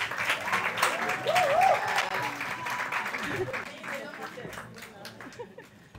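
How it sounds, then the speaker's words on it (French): Audience applause for Burkina Faso on a morning television show, a broad, steady wash of clapping with chatter and a brief voice mixed in, fading slightly toward the end. "On applaudit aussi pour le Burkina Faso"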